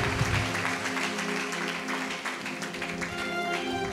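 Applause from a church congregation during a Telugu Christian healing service, steady dense clapping filling the room throughout, with no talk over it.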